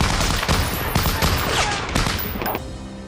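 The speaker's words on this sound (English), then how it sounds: "Any gunfire you hear throughout the movie is entirely real." Gunfire from Saving Private Ryan, recorded with live ammunition from authentic World War II weapons, cracks out in a dense, loud volley of overlapping shots and bursts before cutting off abruptly.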